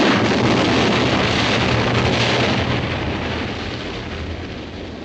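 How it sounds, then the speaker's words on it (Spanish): A loud, deep rumbling blast roars and then slowly fades, like a big helicopter explosion on a film set heard with heavy wind-like noise; no voices. "la explosión de este helicóptero"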